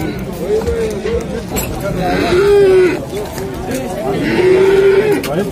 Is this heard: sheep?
yes